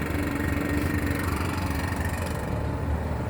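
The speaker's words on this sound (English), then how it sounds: "the old leaf blower" An old leaf blower runs steadily at a distance, its small engine giving a continuous droning hum with no break across the whole stretch.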